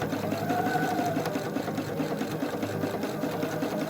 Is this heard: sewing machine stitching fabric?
yes